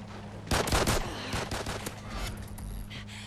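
Rapid bursts of automatic gunfire from the Call of Duty Ghosts shooter game, loud and dense at first, then thinning into scattered shots over a steady low background hum.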